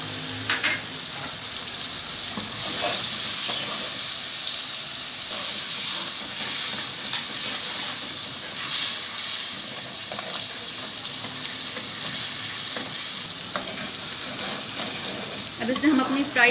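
Yogurt going into a hot okra masala, a loud, bright sizzle that surges and holds, with stirring and wet bubbling throughout.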